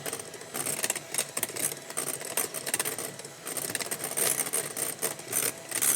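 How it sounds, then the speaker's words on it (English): An electric hand mixer whips meringue for Baked Alaska with a continuous, close whirring buzz and rapid rattling of beaters against a bowl, running steadily with brief dips. "today, I just wanted to show that you can do it with a hand mixer just as easily"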